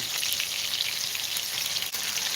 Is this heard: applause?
no